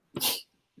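One sharp, close sneeze, a quick intake followed by a forceful burst, then a short faint breath afterward.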